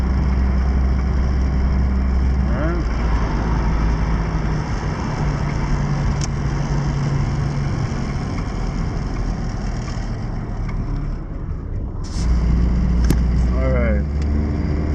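A 1988 Honda Prelude's engine drones steadily while driving, loud and close from inside the car, with a dip and a rise in pitch around a gear change into second.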